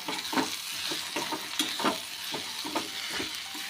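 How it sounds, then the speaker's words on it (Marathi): Ginger, red chilli powder, turmeric and garam masala sautéing in a pan for a vegetable dish: a steady close sizzle broken by rhythmic scraping stirs of a spoon at a moderate level. "आता यामध्ये आपण थोडंसं आलं, लाल तिखट, थोडीशी हळद, थोडासा गरम मसाला परतून घेऊया"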